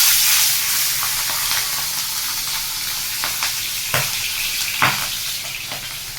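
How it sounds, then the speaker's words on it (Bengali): Fish heads for muri ghonto sizzle in hot oil in a pan, a continuous bright crackling hiss broken by occasional sharper pops and spits, with no talking. "তেলটা অলমোস্ট গরম হয়েই গেছে। এবারে মাছগুলোকে ছেড়ে দিই।"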